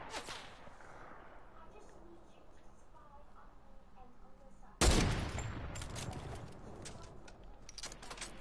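Sudden burst of video game gunfire, a sharp loud volley followed by scattered shots and clatter, with a person talking quietly beforehand.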